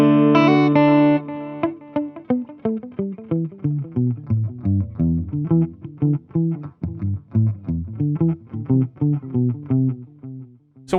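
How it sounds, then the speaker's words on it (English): Electric guitar through an Echolution 2 delay preset on an amplifier switching rig: a ringing strummed chord, then a string of picked single notes whose repeats trail behind each attack, loud and clear with no talk. "Let's go to preset number 5, where I have the Echolution 2 in."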